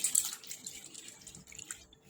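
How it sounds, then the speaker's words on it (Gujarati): Chana dal being washed with water in a bowl, faint close swishing and dripping with a few soft splashes, quiet and without voices. "બે ત્રણ પાણી પહેલાં એને ધોઈ કાઢીશું આપણે દાળને"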